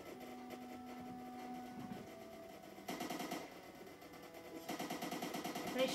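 Gunfire shooting zombies in the Roblox Zombie Attack video game: rapid, steady bursts of automatic fire in two stretches over a droning game background, fairly quiet and with no talk.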